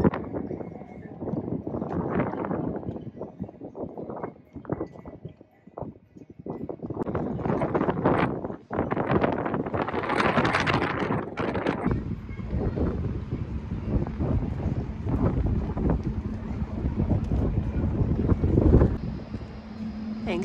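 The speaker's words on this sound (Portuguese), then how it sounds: "Tem um vento horroroso." Strong wind buffets a rooftop terrace in Helsinki, roaring in uneven gusts against the microphone and dropping briefly before surging again, loud and close with a steady lower rumble underneath.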